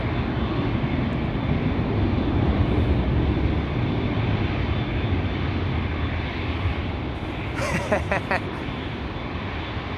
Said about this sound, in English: Air Baltic A220 and the first Dreamliner of the show